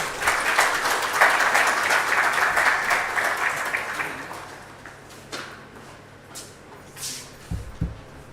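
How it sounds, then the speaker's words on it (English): Audience at a university building inauguration applauds the Provost of the College of Health Sciences as he takes the stage, loud sustained clapping for about four seconds that thins into scattered claps and footsteps. "A round of applause for him."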